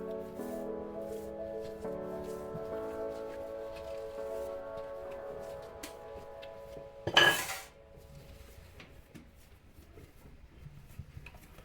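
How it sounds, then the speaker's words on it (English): Home-baked bread is set down on a metal baking tray, giving one sharp metallic clatter with a short ring that stands out over a quiet kitchen background holding a steady low hum. "So I'm going to place this on my baking tray"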